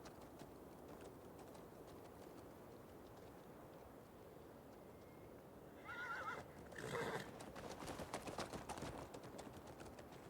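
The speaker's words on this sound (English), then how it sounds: "First horse I tamed." In a video game, a freshly tamed horse gives a short whinny, followed by a quick clatter of hooves. Both come after a quiet stretch, sit near and fairly faint, and no voice talks over them.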